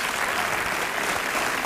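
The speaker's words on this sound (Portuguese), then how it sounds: "E a quem eu dou os meus aplausos" A television studio audience at a celebrity impersonation show bursts into thick, continuous applause, a dense wash of clapping with no pauses.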